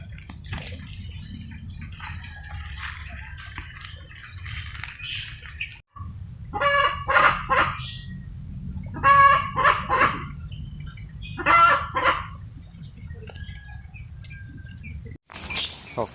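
Brahma chickens cluck and squawk nearby in bursts of sharp, repeated calls, quieter stretches in between, over a low steady background rumble.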